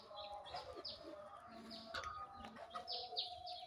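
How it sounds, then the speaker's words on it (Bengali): A pair of Raj Golla pigeons call inside a loft among other birds, with soft coos under a steady stream of higher chirps and tweets that continue throughout, fairly close and moderately loud. "এখানে এক জোড়া দেখতে পাচ্ছেন যে ডাকাডাই করতেছে, এটা আপনার একটা নতুন কবুতর"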